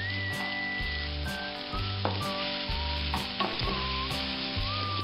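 Onion with ginger, garlic and green chili paste frying in a pan for Bengali egg devil, a steady close sizzle with regular stirring strokes throughout.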